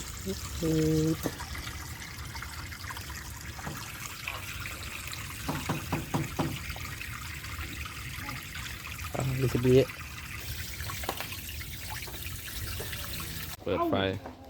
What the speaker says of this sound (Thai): การเติมน้ำ เติมน้ำนะครับ